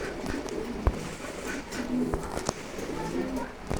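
Low, soft pigeon coos come a couple of times among light clattering and bird movement nearby.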